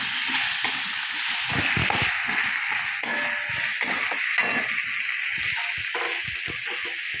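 Chopped vegetables fry for khichdi with a steady loud sizzle, while a spoon stirs them in the pan, scraping and clicking irregularly at close range.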